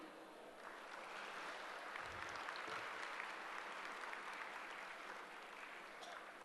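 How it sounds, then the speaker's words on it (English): A seminar audience at a technical session applauds with dense, continuous clapping that sounds fairly faint and distant. It holds steady for about six seconds with no speech over it. "Please give a big round of applause."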